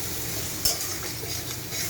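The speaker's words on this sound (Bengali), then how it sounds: "ওল কষানো হয়ে গেছে," Boiled elephant foot yam being stir-fried with spices and oil in a pan, giving a steady close sizzle with a sharp utensil scrape near the start and no talking.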